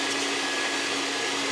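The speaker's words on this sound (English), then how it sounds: "Vacuum up, sucking up all the water that we put onto the floor." Steady, continuous roar of a wet vacuum sucking water off a floor, a broad hissing whine with a constant pitch that stays loud and close throughout.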